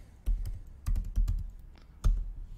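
Typing on a computer keyboard, close and clear: short bursts of crisp key clicks with brief pauses between.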